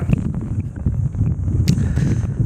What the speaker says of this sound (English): It is so windy here